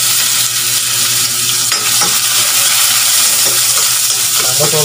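Onion and garlic sautéing in a small amount of hot cooking oil until golden brown, a steady close sizzle with occasional stirring scrapes and clinks of a utensil against the pan.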